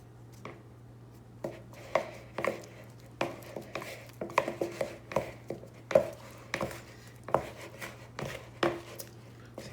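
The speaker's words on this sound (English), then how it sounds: "The idea is to use the dough scraper to start with to get everything mixed together" A dough scraper works flour into bread dough in a bowl. Repeated uneven knocks and scrapes land roughly every half second against a steady low hum, close and moderately loud, with no clear talk.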